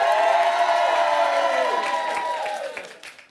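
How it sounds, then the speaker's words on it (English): A studio audience at a comedy musical show cheers and whoops loudly, a dense crowd roar that holds steady and then fades away over about three seconds. "please cheer if you'd like it set in a bakery"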